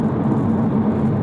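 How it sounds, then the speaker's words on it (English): Jaguar F-Type S Coupe V6 engine while driving, heard as a loud, steady low drone with a constant whir and no talk over it. "It's that V6 screaming kind of sound"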